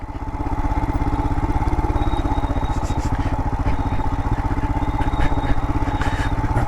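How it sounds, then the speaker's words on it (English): A 2022 Royal Enfield Himalayan motorcycle descending a desert trail in southwest Utah with its rear brake in use, a steady close engine thrum with a faint intermittent squeal from the noisy brake above it. "Rear brake's a bit noisy."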